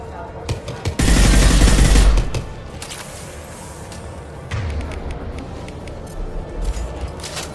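Gunfire in the video game Mass Effect 2, a loud dense burst of shots lasting about a second, followed by quieter scattered combat noise and a second softer volley.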